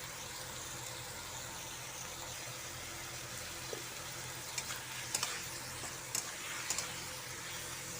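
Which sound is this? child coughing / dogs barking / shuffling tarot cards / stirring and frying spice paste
stirring and frying spice paste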